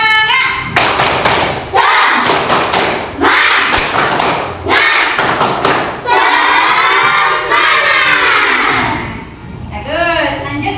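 A classroom of students performs a rhythmic clapping chant ice-breaker during a lesson, with loud unison claps in bursts interspersed with shouted group chanting and voices.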